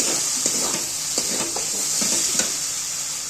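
Kashmiri chilli powder masala being stirred in a hot pan, a steady close sizzle and hiss broken by soft scraping strokes of a spoon every half second or so.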